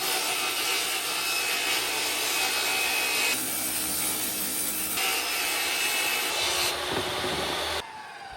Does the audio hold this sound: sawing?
yes